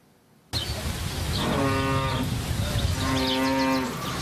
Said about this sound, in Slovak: musíte počítať s tým, že v susedstve môžu bývať kravy